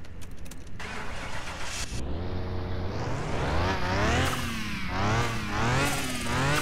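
A Pagani Huayra engine starts in the game Car Mechanic Simulator 2021: a cranking starter, then the engine catching and revving in rising, falling sweeps, loud and clear with no voices.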